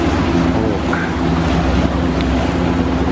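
A boat travels along a canal in Arkhangelsk: a loud, steady engine drone mixed with water wash and wind noise, continuous and close, with no talking.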